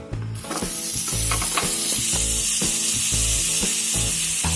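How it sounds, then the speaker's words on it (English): Butter sizzling in a heated pan: a loud, steady, close-up frying hiss that swells once the butter hits the hot metal, with faint scraping or stirring knocks underneath and no voices. "I have taken a pan, heated it, and I am adding butter to it"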